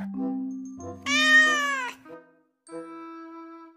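A cat in a Jurassic World Evolution 2 game meows clearly several times, with short calls and one longer, rising meow standing out, and a soft chime-like tone near the end.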